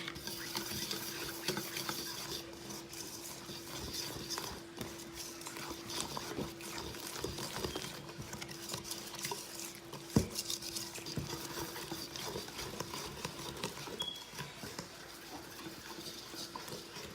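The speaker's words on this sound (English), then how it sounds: "So we're going to add that in and whisk it." Whisk stirring flour into pumpkin roll batter in a bowl, a faint, continuous scraping and patter with a steady rhythm and occasional light clinks.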